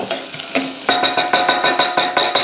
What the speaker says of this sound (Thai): เนี่ยผัดไปครับเบาๆ จะได้ไม่ไหม้นะ